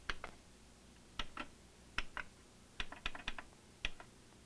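Buttons on the keypad of a Kurzweil K2600XS synthesizer being pressed to enter a value, heard as a series of crisp, close plastic clicks in small irregular clusters, some doubled, against quiet room tone.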